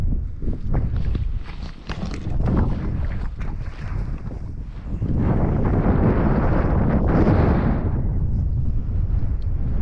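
Strong wind buffets the microphone beside a mountain trout lake with slushy water, roaring in heavy low gusts that swell louder in the second half, with faint shuffling underneath and no clear speech.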